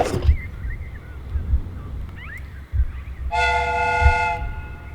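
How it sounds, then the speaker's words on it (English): A steam train whistle blows in the Sherlock Holmes game: a loud, steady harmonic blast lasting about a second, over a low rumbling mechanical background with chirping birds and rhythmic thumps. "The steam whistle is ready to be used."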